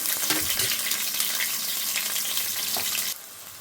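Pepperoni frying lightly in a pan, a steady broadband sizzle with soft clinks and stirring, continuous for about three seconds before dropping to a quieter hiss.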